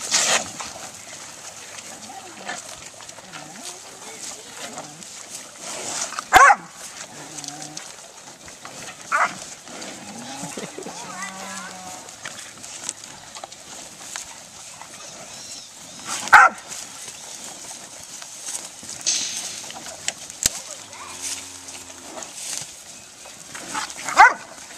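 A Catahoula dog barks in short bursts at Black Angus cattle outdoors, the yaps scattered and fairly close, with people talking intermittently and faint farm background.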